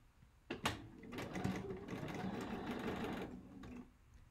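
Domestic sewing machine stitching quilt fabric for a basket puzzle quilt, a steady fast whirring run lasting about three seconds after a brief start, fairly close and alone, ending abruptly.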